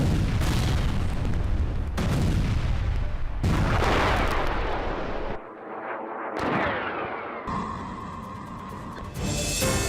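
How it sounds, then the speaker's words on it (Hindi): Rocket and bomb strikes on Israel by night, heavy booming blasts that roll into a continuous loud rumble, broken by short gaps and abrupt cuts, with no voices. "रात भर इजराइल में इसी तरीके से रॉकेट दागते गए हिजबुल्लाह के लड़ाके।"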